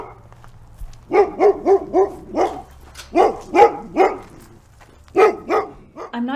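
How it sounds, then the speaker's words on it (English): A dog barks in steady, loud bursts close by, about a dozen sharp woofs grouped in runs of three or four with short pauses, ending in a brief whine. "There's my mom's dog."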